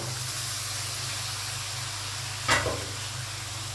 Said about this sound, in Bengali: এখন আমি মাংস আর আলু একসাথে দিয়ে দিব